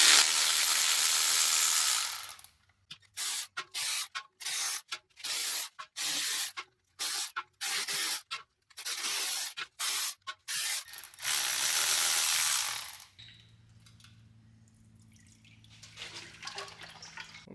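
Removing the transmission pan of a Turbo 350 automatic on a 1977 Pontiac Grand Safari, with a close ratchet clicking in quick repeated strokes between bursts of air-tool hiss, then fluid trickling and dripping at the end.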